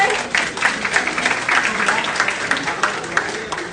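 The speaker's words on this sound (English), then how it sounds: "A big round of applause again for sir." A lecture audience gives a big round of applause at a World Physiotherapy Day talk on low back pain, steady dense clapping filling the hall throughout with a faint voice underneath.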